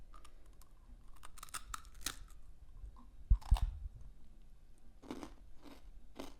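Someone bites into and chews a hard peach ring candy, giving quiet close crunches and clicks with one louder crunch burst midway, no talking.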